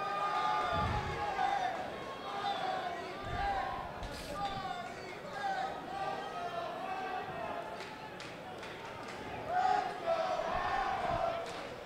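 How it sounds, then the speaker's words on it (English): Crowd at a boxing match screaming and cheering in a continuous roar, with surges around the middle and end, while a commentator talks over it throughout. "And as the crowd screams, "Let's go hammer!""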